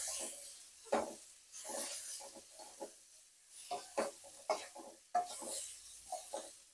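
Chopped paneer is stirred into a thick vegetable masala in a pan, a series of close scraping and squelching strokes of a spatula against the metal in an irregular rhythm, with no voices.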